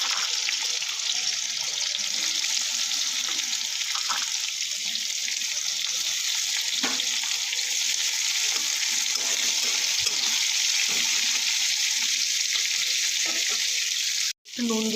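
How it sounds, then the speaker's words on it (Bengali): Chopped onion hits hot oil already holding whole garam masala, for a chicken kosha, raising a steady, close, loud sizzle that runs unbroken with no talking. "দিয়ে দিয়েছি তেলের মধ্যে গোটা গরম মশলাটা। এবার দিয়ে দেবো এর মধ্যে কুচি করে রাখা পেঁয়াজটা।"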